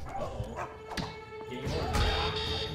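A dog barks in a few sharp yips over busy video game sound effects and background music, fairly close but partly masked by the game audio.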